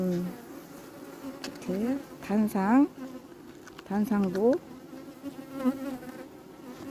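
Honeybees buzz densely inside a crowded beehive during summer feeding with pollen patties, a steady close hum running under someone talking in Korean.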